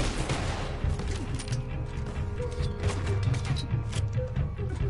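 Gunfire and mechanical clatter in the video game Red Dead Redemption 2 during an island fight, with rapid overlapping shots and metallic clicks filling the scene at a loud, busy level, no talking.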